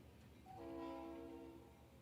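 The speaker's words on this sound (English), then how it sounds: "Here comes the train any second. Get ready for it. There it is." A train passing outside, a faint, distant horn sounding in one sustained blast that swells and fades over steady background rumble.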